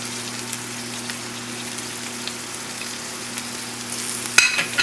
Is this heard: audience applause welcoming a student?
no